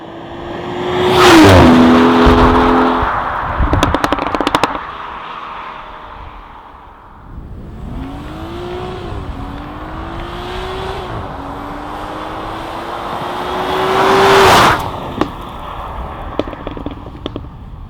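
A 2019 BMW X4 M40i engine revs hard through its gears with loud rising exhaust notes, then settles to a steady drone before a final surge, crackling backfire pops at the peaks, close and powerful.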